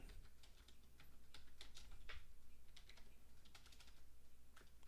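Steady bursts of fairly quiet computer keyboard typing while setting up a Hudson Soft game: irregular clicking keystrokes run throughout, close by, over a low constant hum with no talking.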